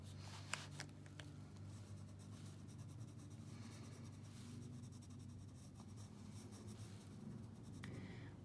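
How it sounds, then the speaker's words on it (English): Soft, continuous scratchy rubbing of the side of a pencil shading on paper, close and quiet, with a few small taps and shifts. "Take my time, use the side of my pencil."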